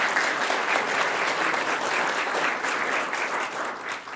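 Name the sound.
audience applause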